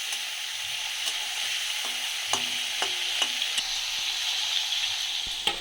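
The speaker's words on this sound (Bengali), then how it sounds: "এবার আমি এই যে চিংড়ি মাছগুলো আছে এগুলো ফ্রাই করে নেবো" Marinated prawns frying in hot oil in a wok for restaurant-style mixed fried rice, a steady close sizzle broken by several sharp clinks and scrapes of stirring, with no talking.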